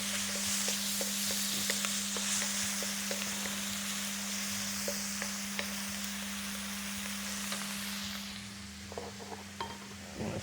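Food sizzles and fries steadily in a hot pan while being tossed quickly, with scattered clinks and scrapes of utensils against the pan, a constant electrical hum underneath, and the sizzle easing toward the end.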